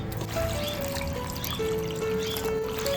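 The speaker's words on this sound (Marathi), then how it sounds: "मिठाच्या पाण्यात कशा भाज्या व्यवस्थित धुतल्या ना चांगले साफ निघतात." Vegetables being washed in salt water, with soft trickling and sloshing of water close by in a kitchen and no voices.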